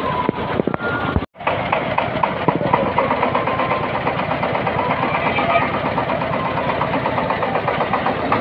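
A tractor engine idling with a steady, rhythmic chugging throb, close and continuous, with a brief dropout near the start.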